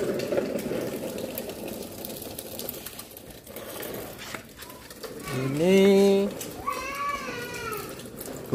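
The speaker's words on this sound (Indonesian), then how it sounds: "nah ini untuk kerannya kita coba nyalakan kembali" Water runs steadily from a repaired garden tap, a broad hiss for several seconds, then a few short cooing, voice-like tones rise over the flow.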